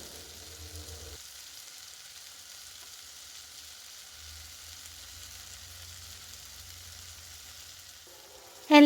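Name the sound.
sautéing green chillies and ginger garlic paste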